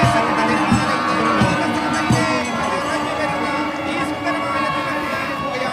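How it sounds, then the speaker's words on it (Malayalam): Dense crowd roar and cheering at the Punnamada lake snake boat race in Alappuzha, a steady, loud wash of many voices near and far sustained throughout, with a few thumping beats underneath. "അങ്ങനെ ആരവം പതുക്കെ താഴേക്ക് ഇറങ്ങുകയാണ്."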